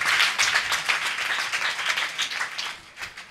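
A church congregation claps in praise during a worship service, a dense, fast, close burst of many hands that keeps going steadily for the whole stretch.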